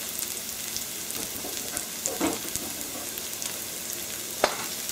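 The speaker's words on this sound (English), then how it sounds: "So here you can see that we have garlic. They're cooking in the olive oil." Garlic fries in olive oil with a soft, steady crackling sizzle, fairly quiet and close, with occasional small pops and no talking.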